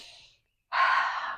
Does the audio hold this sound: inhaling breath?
yes